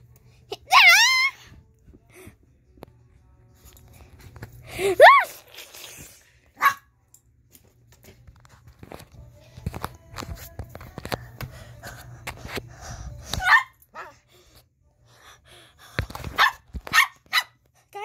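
A dog barks in short, loud, scattered yips and yelps, some drawn out like whines, spread across a quiet stretch with long pauses between bursts.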